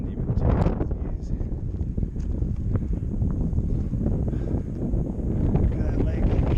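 Strong gusting wind buffets the microphone on a Colorado 14er summit, Grays and Torreys, as a constant loud roaring rumble with no pauses.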